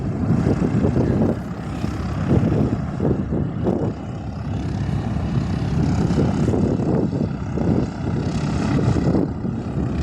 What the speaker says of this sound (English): very quick arrival from the Cessna C-172